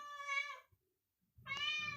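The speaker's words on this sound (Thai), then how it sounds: "ไอ้แมวเดี๋ยวนะแมว" A domestic cat meows twice, close and loud, each call a clear drawn-out tone with a silent gap between them.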